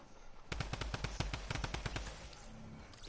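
A fast burst of SMG fire in a video game gives about two seconds of rapid, evenly spaced shots, fairly close, then a few faint scattered sounds.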